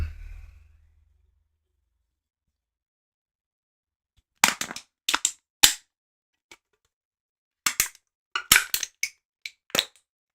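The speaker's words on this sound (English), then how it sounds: "Close her out with a Can Crush" An aluminum can being crushed to close out a livestream: after a low rumble fades and several seconds of silence, two clusters of sharp crinkling crunches and snaps ring out close and loud, with no talking over them.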